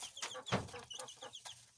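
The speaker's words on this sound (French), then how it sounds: "dans cette cage c'est les poussins que je garde" Chickens cluck in a cage of young Marans and bantam hens, a steady run of short, near clucks and chirps with one louder squawk partway through.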